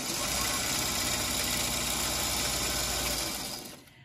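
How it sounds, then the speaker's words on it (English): A sewing machine runs continuously while stitching a quarter-inch seam on a quilting block, a steady close motor hum with rapid needle chatter that cuts off near the end. "So what I do is I simply just do a quarter inch."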